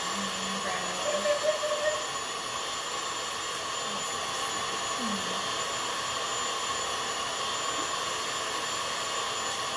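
An electric mixer whips cream for tiramisu, a steady droning whir with a high whine running throughout, close and constant, sped up, with a brief burst of background voice early on.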